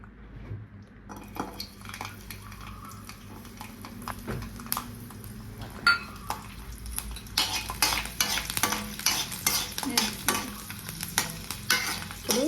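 Garlic slices fry in hot oil left from cashews for a coriander chicken fry, a continuous close sizzle growing busier, with frequent spatula stirs and metallic scrapes and clinks against the pan.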